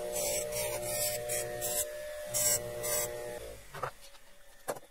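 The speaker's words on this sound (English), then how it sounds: "So I've got a Scotch-Brite wheel on here. We're gonna try and deburr these edges." A Scotch-Brite wheel on a bench grinder deburrs the edges of 4140 alloy steel cufflinks, giving a steady whirring hum with repeated bursts of rasping contact before the motor sound drops away and a few light clicks follow.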